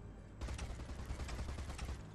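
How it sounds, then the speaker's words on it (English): Rapid turret gunfire from the Destroy All Humans video game rattles out in a loud, dense burst after a brief quiet lead-in, with the shots running together as continuous automatic fire. "Oh, it's the turret."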